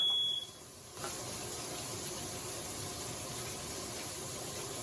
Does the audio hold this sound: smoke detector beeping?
yes